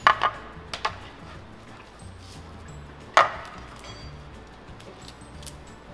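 A knife slices through a frozen roll of homemade chicken nugget mixture, giving a few sharp knocks and cuts against a board, with one harder chop partway through over a quiet kitchen background.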